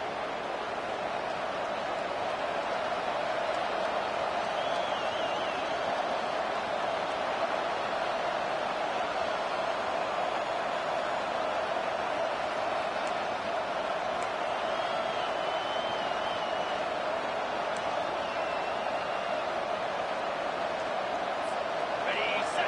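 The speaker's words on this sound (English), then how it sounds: "This crowd rising up, sensing that its defense needs some help." A football stadium crowd roars continuously, a dense, sustained wall of distant cheering that holds at an even level throughout, with no clear voices standing out.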